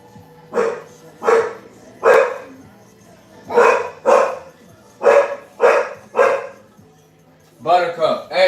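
Several dogs bark in the back in irregular bursts, loud and close, roughly ten sharp barks spread across the stretch with short pauses between, ending in a quick cluster of yips.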